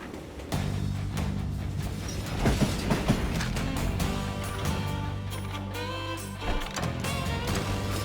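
A steam-era train rolling along in the Wild West shooter Call of Juarez Gunslinger, a steady low rumble with creaks and clanking metal running throughout, loud and close.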